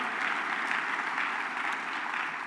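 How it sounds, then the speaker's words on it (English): Steady, dense applause from a large summit audience fills the room without pause, loud and even throughout. "You can clap, it's all right."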